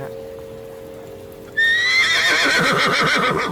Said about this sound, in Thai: ดูม้าไหม